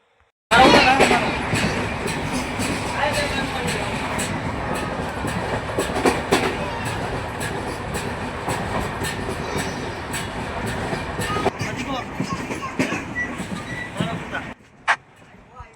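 A train between Rajkot and Somnath near Junagadh rumbles steadily along the tracks, wheels clattering in a continuous rhythm, loud and close from start to end before cutting off.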